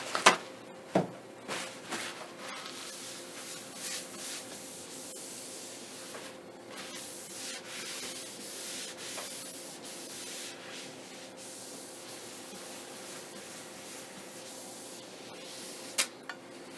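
Rubbing with a cloth and alcohol cleans a thick aluminium laminate sheet, giving a faint, steady scrubbing swish with a few soft knocks near the start and end.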